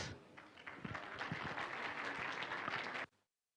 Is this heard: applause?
yes